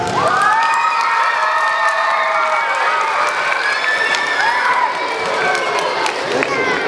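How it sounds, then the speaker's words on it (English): Children cheering and applauding at a school character assembly, a loud wash of high shouts, whoops and clapping filling the whole stretch, with voices calling out through the crowd. "Give yourselves a big round of applause!"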